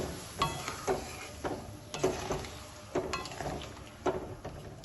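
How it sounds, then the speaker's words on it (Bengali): Raw mango pieces are stirred through sugar syrup in a pot, soft scraping strokes recurring in a steady rhythm every second or so over a faint simmering hiss, quiet and close. "আমগুলো চিনির রসে ভালোভাবে মিশিয়ে নেব।"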